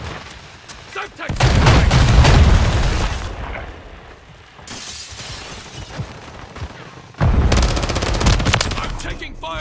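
Heavy automatic gunfire and booming blasts from the video game Call of Duty Modern Warfare 3 multiplayer, loud and close, in two intense bursts separated by a quieter stretch, with voices calling out over the action.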